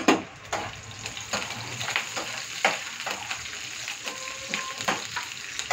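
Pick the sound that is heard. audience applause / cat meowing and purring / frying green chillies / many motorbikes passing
frying green chillies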